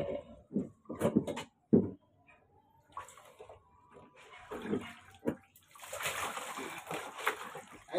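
Intermittent water splashing and sloshing as an older dog is bathed, with bursts of pouring and splatter, some close and fairly loud, separated by brief quiet gaps.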